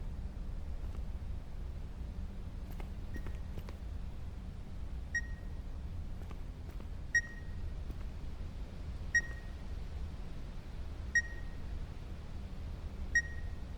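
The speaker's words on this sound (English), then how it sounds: "Wait, that beeping." Beeping in the horror video game The Beast Inside, short electronic beeps repeating about every two seconds over a quiet low ambient hum, with a few faint clicks before them.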